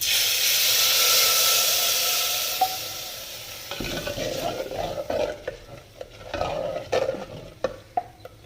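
Blended curd is poured into a hot pan, giving a steady hiss that fades, then a spoon stirs it with close, irregular scraping and clinks, loud and with no talk.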